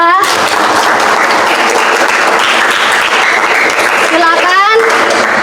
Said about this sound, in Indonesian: Terima kasih, tepuk tangan untuk Reza.